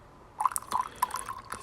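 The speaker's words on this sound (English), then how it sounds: "So now I'm going to pour the water into the oil." Hot water phase poured into hot oil phase for a homemade body lotion makes a short run of close liquid drips and splashes, light and uneven, without talk.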